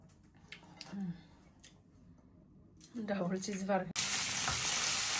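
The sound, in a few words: shrimp and cumin tempering frying in a pan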